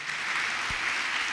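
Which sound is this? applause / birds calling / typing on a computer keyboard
applause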